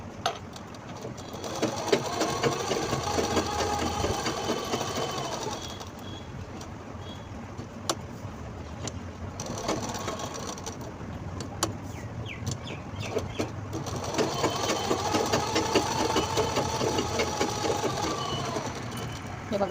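An electric sewing machine stitches quilting lines on a small fabric mobile pouch. It runs in two steady whirring bursts of several seconds each, close by, with quieter handling of the cloth in between.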